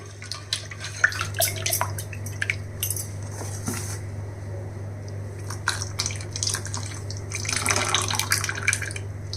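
Water splashes and trickles into a mixer jar being swirled and rinsed, with light clinks against a steady low hum.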